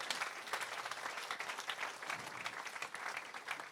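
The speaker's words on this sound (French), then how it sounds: "On peut les applaudir là?" Church audience applauding its elders of long Christian faith, a steady dense wash of many hands clapping throughout, moderately distant and filling the room, with no break.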